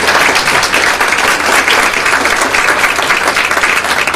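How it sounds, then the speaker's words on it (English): Steady, dense audience applause at a children's health symposium, loud and continuous throughout with no pauses or talk. "if we could give them one more round of applause"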